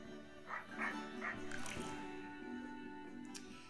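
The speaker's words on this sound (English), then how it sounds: "Did you hear that barking? Kind of sounds like it's coming from the trail." A dog barks a few times in the video game Little Friends: Puppy Island, short yips spaced apart and somewhat distant, set against soft game background sound.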